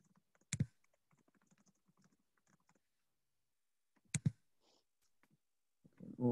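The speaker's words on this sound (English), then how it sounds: "We'll give the people who are typing perhaps a second" Soft clicks of typing on computer keyboards during an online meeting, sparse and quiet, with a couple of sharper, louder knocks in between and no talking.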